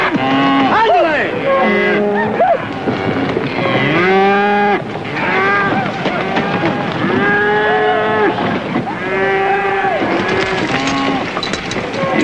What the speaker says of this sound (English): Anybody see any cows come through here?